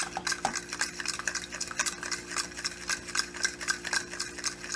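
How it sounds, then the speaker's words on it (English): A fork whisks eggs in a bowl for French toast, giving a steady, fast rhythm of close metallic clicks and scrapes that runs without pause. "Welcome to the joy of whisking."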